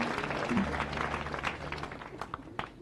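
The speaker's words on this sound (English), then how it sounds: "We clap for him" A crowd applauds at a diaconate ordination ceremony with dense, steady clapping that thins out toward the end, with some voices underneath.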